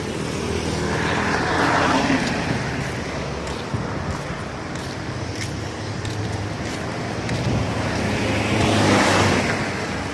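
Steady roar of vehicles on a busy highway bypass road, passing cars swelling and fading at close range over a continuous traffic rumble.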